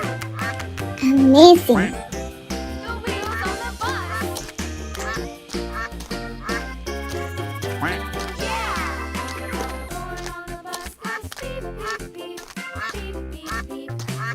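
A quacking duck sound effect sounds briefly near the start of an animal-sound bowling game, followed by cheerful talk and background music.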